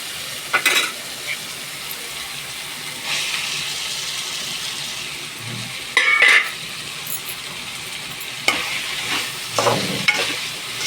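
Capsicum frying in a pan for a curry, a continuous close sizzle with occasional louder bursts and scraping stirs spread across the stretch, no voices.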